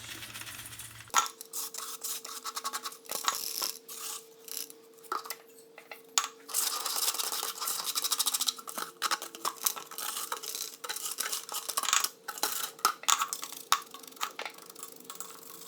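Refractory material for a foundry furnace base layer is scraped out by hand. The scraping comes close and unsteady, a run of gritty rasps and small clinks with brief pauses and no talking.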